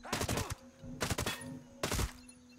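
Autonomous turrets fire in Ghost Recon Breakpoint, three separate bursts of rapid gunfire about half a second each, loud and close, with quieter game ambience between them.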